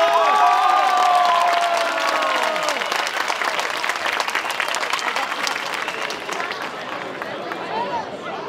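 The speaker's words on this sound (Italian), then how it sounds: "Al verde parte l'applauso, mi raccomando." Spectators at the start of the Corrida del Sud road race in Rocchetta Sant'Antonio burst into loud applause and cheering. A voice carries over the opening moments, then the clapping gradually thins and fades.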